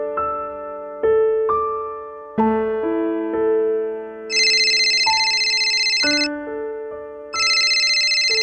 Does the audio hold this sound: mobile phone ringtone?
yes